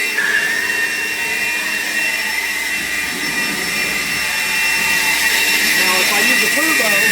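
A Seesii 40V cordless leaf blower running close by, a loud steady whining rush of air that holds throughout; speech in the background is faint.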